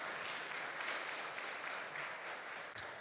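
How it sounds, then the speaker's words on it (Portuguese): Applause from a Baptist church congregation for a group of young people, a steady dense wash of many hands clapping throughout, fairly distant and even with no talk over it. "uma salva de palmas para esses jovens"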